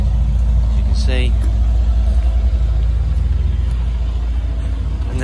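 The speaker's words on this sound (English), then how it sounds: "Lots of noises, lots of turbo noise. And a nice deep rumble as well on idle." A Mercedes-AMG GLE 63 S twin-turbo V8 idles with a deep, steady low rumble close by. A voice talks briefly over the engine near the start.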